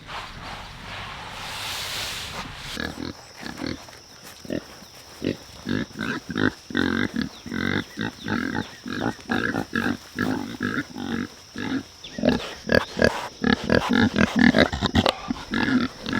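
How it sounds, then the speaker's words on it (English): Idaho pasture pigs on a farm grunt and oink close by in a steady stream of short bursts, with rustling and footsteps among them and a faint high electrical whine running underneath. "We need to move these Idaho pasture pigs this morning"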